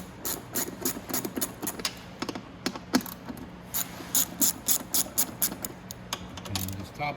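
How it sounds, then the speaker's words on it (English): A socket ratchet clicks in quick repeated bursts while backing bolts out of a Venom x22GT 250cc automatic motorcycle, near and fairly loud, with short pauses between runs of sharp metallic ticks. "let's take out the bolts"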